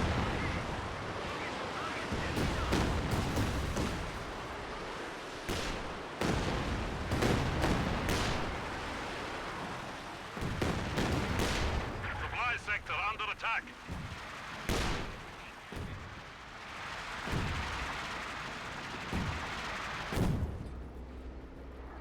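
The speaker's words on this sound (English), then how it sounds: "A bit of artillery running in back here." Artillery fire rumbles through a Company of Heroes 2 match between OKW and Soviet forces, with repeated booms and crackling impacts scattered across the scene amid other battle noise, moderately loud in the background.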